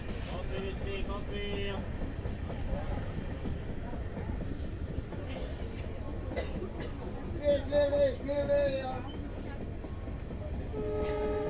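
A diesel-hauled passenger train on the Yesvantpur–Mangaluru line, running along a high hillside route, gives a steady, loud rumble with wheel noise throughout and brief tonal horn-like bursts near the end.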